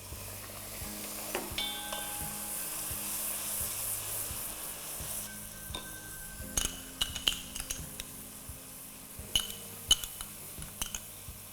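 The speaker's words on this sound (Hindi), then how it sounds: "दही को भूनना है" Yogurt fries in a pan with coriander, deggi chili and ginger-garlic paste for spicy Lahori paneer. A soft, steady sizzle runs throughout, with a spoon clinking against the pan now and then and sharper stirring taps and scrapes toward the end.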